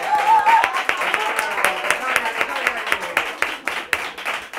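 An audience bursts into close, lively applause for the cameraman, with dense handclaps running throughout and people talking and calling out over the clapping.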